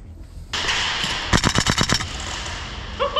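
A Tokyo Marui Saiga airsoft rifle fires BBs during an airsoft game day: a rapid string of about eight sharp, close, evenly spaced shots in a short burst over steady background noise.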